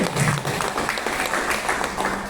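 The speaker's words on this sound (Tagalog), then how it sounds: "Palakpak naman po." Steady, dense applause fills a room at a school coordinators meeting, many hands clapping continuously at an even level throughout.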